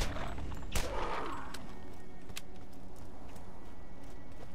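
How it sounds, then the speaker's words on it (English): Borderlands pistol shots dealing burn damage crack out as a few sharp, separated reports, one heavy blast near the start followed by lighter scattered pops over quiet game ambience. "See how our pistol does. As long as I hit him, it does burn damage."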